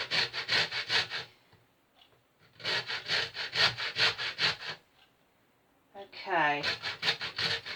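A lemon being zested on a grater, giving rhythmic rasping strokes in two bursts, close and fairly loud, with a brief spoken word between them.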